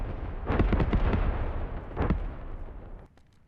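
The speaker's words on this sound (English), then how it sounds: "Enemy tank just hit friendly mines on the road, Chief." A landmine blast under an enemy tank on a road in the game Squad, heard as a cluster of heavy booming bursts followed by a second rumbling detonation that fades into a low tail.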